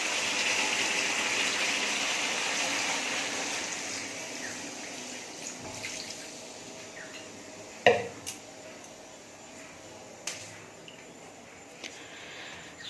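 Tap water runs steadily in a home kitchen, a broad continuous gush that tapers slightly, with a few sharp knocks and clinks of a container near the end.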